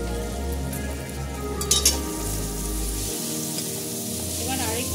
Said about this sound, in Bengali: এবার আরেকটু আমি লাল করে ভেজে নেব।